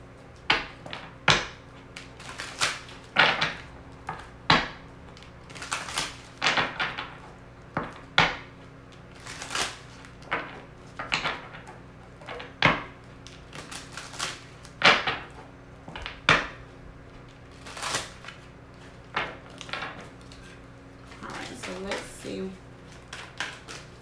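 Tarot love cards are shuffled and handled in a steady run of sharp, dry slaps and riffles, close and fairly quiet, repeating unevenly across the stretch with no speech over them.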